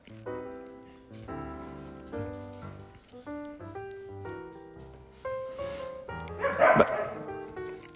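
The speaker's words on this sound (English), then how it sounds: "that's the dogs in the background. They're now wrestling and playing while I'm doing this voiceover." Dogs yip and bark in the background while wrestling and playing, over a steady tonal bed, with a louder scuffling, playful burst toward the end.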